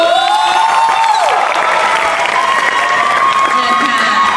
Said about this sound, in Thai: ขอเสียงปรบมือดังๆหน่อยครับผม